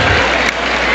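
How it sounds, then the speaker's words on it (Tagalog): A USEP crowd roars at a basketball game during the Kadayawan Invitational, a brief, loud wash of cheering and applause. "Bububuhay na ang USEP crowd"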